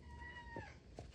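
A pet cat meows twice in a quiet room: one drawn-out, falling meow, then a second, shorter one a moment later, both at moderate volume and fairly close.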